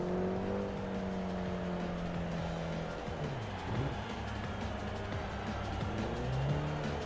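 A car driven in the racing game Forza Horizon hums steadily, its engine pitch gliding up and down through gear changes, with no one speaking.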